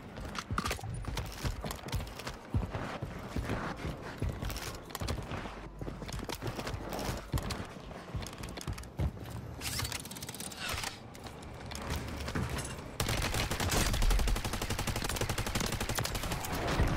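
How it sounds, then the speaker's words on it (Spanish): In a video game, a Holger 26 light machine gun fires in rapid, dense bursts of gunfire that run almost continuously, growing louder toward the end. "Es una ametralladora ligera, es la Holger 26."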